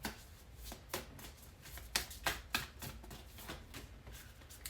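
Moonology Oracle deck cards are shuffled close by, giving a quiet run of riffling flutters and soft slaps in irregular bursts, with no talking.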